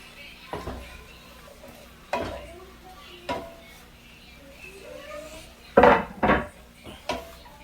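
Tomatoes go into a hot pan of beef for bistec a la Mexicana, bringing a few sharp clatters and stirring scrapes, then a louder cluster of knocks near the end over a faint sizzle.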